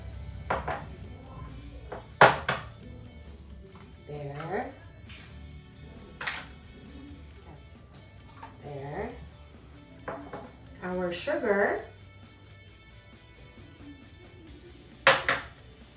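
Eggs are cracked one at a time into a bowl while making garlic butter buns, giving a few sharp, isolated taps and clicks spaced out between stretches of a person talking.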